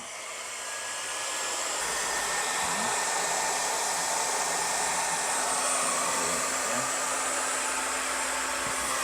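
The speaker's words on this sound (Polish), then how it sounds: "Właśnie te termokurcze malutkie tutaj pójdą za chwilkę, będziemy je zagrzewać." A heat gun shrinks small heat-shrink tubing over DC power cables during an off-grid Victron Energy installation. Its steady, loud blowing roar runs unbroken throughout, with no talk.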